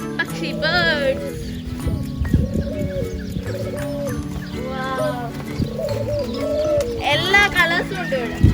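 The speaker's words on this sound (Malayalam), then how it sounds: "ഇതാ പക്ഷി ബേർഡ്സ്." Birds coo and call at the Al-Shu'aa nature reserve park in Qatar, with repeated close calls and soft coos heard under a person talking throughout.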